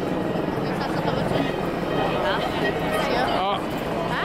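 A helicopter flies overhead during a street march against austerity from Montreal to Quebec, its rotor chop steady and fairly close, with crowd noise and voices talking beneath it.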